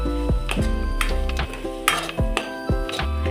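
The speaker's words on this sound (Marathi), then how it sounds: "आता आपल्याला कांदा टोमॅटो दोन्ही एकत्र चांगलं शिजवून घ्यायचं आहे" Onion and tomato for an egg curry sizzle in a hot pan as a spatula stirs them, with rhythmic scraping strokes against the metal over a continuous frying hiss and no talking.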